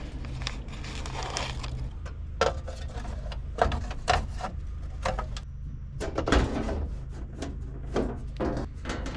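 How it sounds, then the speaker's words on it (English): A loose sheet-metal door skin panel from a Peterbilt 359 truck is handled in a shop, giving scattered clanks, scrapes and crinkling knocks at close range with no talk. "This is just that other door skin."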